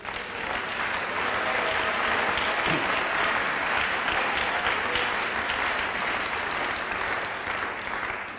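Church congregation applauding steadily throughout, a dense, sustained wash of clapping from a large crowd indoors at a French-language worship service, with no talk over it.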